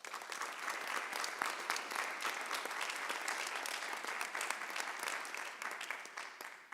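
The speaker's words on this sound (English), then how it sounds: "please join me in just a round of applause and expressing appreciation to all of our board members" Steady, dense applause from an audience at a school district annual electors meeting, honoring board members; many hands clapping continuously throughout, no voices over it.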